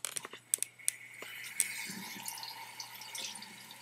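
Hot water runs from a tap during home hair dyeing, starting with a few sharp drips and clinks, then settling into a soft, continuous trickle and splash at close range.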